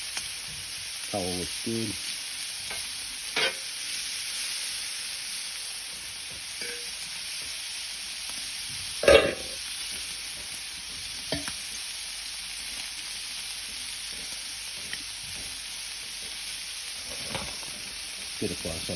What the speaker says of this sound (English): give it a good stir through